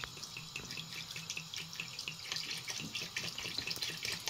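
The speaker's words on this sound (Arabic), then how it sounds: "يطرو ديال الماء في جوج كيلو ديال السنيده" Water pours steadily onto two kilos of sugar for homemade honey, a soft continuous trickle and splash, close but quiet.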